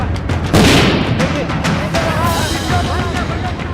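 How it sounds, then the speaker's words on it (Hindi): Bomb blasts at an outsourced coal mining site in Katras, Dhanbad, heard as a deep rumbling boom with a dense, noisy roar behind it and faint voices mixed in. "बम की आवाज से जर्रा जर्रा कांप उठा"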